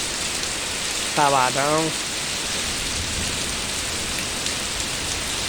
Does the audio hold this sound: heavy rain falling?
yes